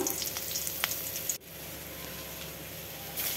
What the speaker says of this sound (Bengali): মাছ ভাজার তেলে দিয়ে দিলাম পাঁচফোড়ন,